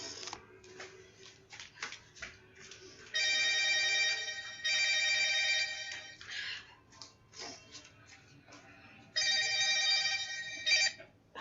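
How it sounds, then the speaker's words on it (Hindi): Electronic phone ringtone with a bright, bell-like warble, sounding in three bursts of about a second or two each, separated by gaps of quieter room noise and small clicks; nobody talks. "मेरा फोन आया है।"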